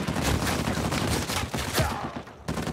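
Sustained suppressive gunfire in an Uncharted 4 multiplayer match, a dense continuous rattle of shots with no break, briefly thinning near the end before resuming.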